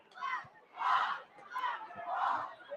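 Crowd at a Friday night high school football game between Madison and North Buncombe, cheering and roaring in two loud swelling waves with brief dips between.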